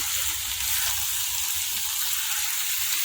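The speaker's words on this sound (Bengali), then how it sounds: "আমি এখন মাংসটা হয়ে গেছে, এর মধ্যে কষে নিচ্ছি ভালো করে একদম কষিয়ে" Cooked meat with whole garlic cloves fries in a pan, giving a continuous, even, hissing sizzle that stays close and steady with no voice over it.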